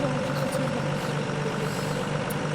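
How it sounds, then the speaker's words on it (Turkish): A bus engine drones steadily and loudly as the vehicle rolls across a player-built bridge in the game Build a Bridge, with a continuous low rumble and no pauses. "Otobüs geç artık."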